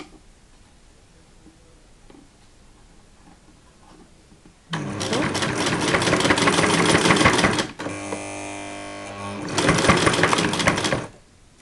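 After a few quiet seconds, a sewing machine in need of oiling starts up and stitches fabric in loud rapid bursts, pausing briefly to a lower whir before running fast again.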